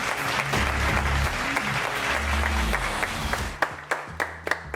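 A studio audience gives a long, dense round of applause that stays loud and steady, then thins out into a few scattered individual claps at the end.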